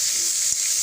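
Pork Bicol Express frying in a pan with a steady, close hiss of sizzling oil and a brief soft stir in the middle, no voices.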